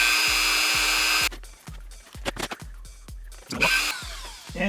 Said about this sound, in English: I'm just going to Dremel it a little bit off.